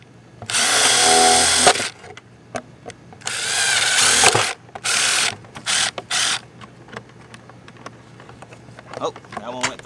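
A power drill bores holes through a plastic 5 gallon bucket in several loud bursts: two long whines, then shorter spurts and quick blips, with quiet gaps between them.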